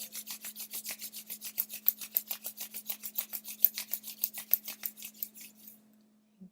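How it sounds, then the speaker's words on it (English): Palms rubbed together fast in a steady rhythmic swish, about two strokes per second, close and clear for roughly six seconds before stopping, with a faint hum underneath. "Bringing your palms together, rubbing the hands together fast, creating heat in the palms."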